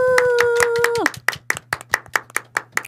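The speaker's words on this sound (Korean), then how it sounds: "박수" At a Korean church talk show with a live band, an audience claps in a steady, rhythmic beat after a short sustained vocal tone, each clap crisp and fairly close.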